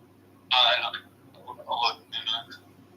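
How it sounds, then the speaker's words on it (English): A cell phone rings in a room, giving one loud tonal burst and then a few shorter, softer chiming bursts before it stops. "It's just my cell phone."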